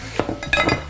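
A lid clinks down onto a pan of peaches and onions in a home kitchen, two short metallic taps in under a second, close and moderately loud.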